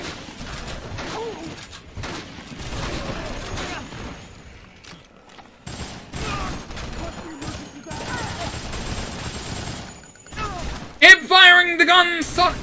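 Gunfire from the Dead Rising video game cracks out in scattered bursts. Frantic talk, gasps and game noise run alongside the shots.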